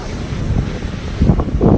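Waves washing onto a beach under strong wind buffeting the microphone, a continuous low roar with swelling surges near the end, no voices.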